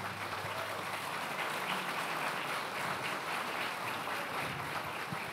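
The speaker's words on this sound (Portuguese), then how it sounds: "Aplauda o Senhor." Church congregation applauding at a book launch event, steady dense clapping from a large room heard at moderate distance without talk.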